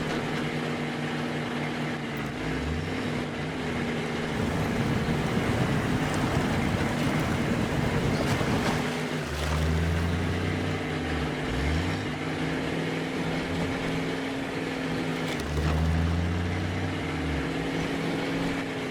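Delta Pickup truck engine in SnowRunner runs with a steady low drone and throaty rumble, swelling in two revving pushes before settling back to a continuous idle.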